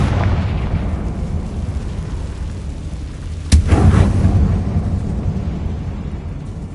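In Hogwarts Legacy, a Confringo spell goes off inside a dark mine with one sudden, loud blast partway through. A deep rumble lingers after it over a continuous low ambient drone.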